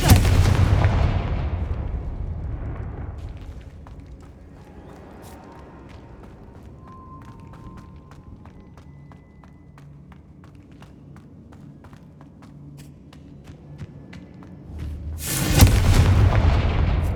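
A Confringo fire spell in the video game Hogwarts Legacy: a loud blast opens and decays over a few seconds, quiet crackling follows, then a second powerful burst hits near the end.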